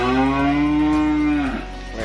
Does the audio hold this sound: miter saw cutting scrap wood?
no